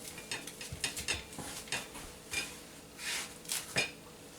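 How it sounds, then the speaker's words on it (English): A knife cutting into a flaky baked apple pastry, producing a quiet series of soft, crisp crackles and crunchy bursts, close up with no talking. "I'm going to cut into this and just get me a little piece. And listen to that."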